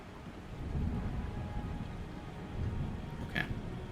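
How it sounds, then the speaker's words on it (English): A thunderstorm with rain plays as a background effect during a Dungeons & Dragons tabletop session, a steady low rumble and hiss of rainfall with a brief sharp crackle near the end. "wait out the storm"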